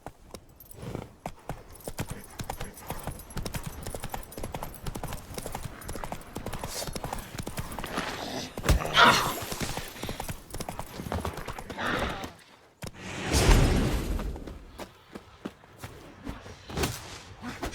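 Horse hooves clip-clop in a steady trotting rhythm in the video game The Witcher 3, close and continuous with a few swells and brief pauses, and a snort or whinny partway through.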